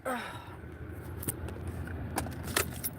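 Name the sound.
keys jangling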